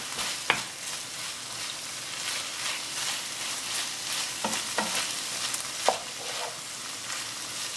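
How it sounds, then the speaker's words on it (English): Beef lasagne sauce with oregano stirred in a pan, a steady soft sizzle with scraping spoon strokes and a few sharper knocks against the pan, close and fairly quiet. "So that's the oregano going in, give it a good stir."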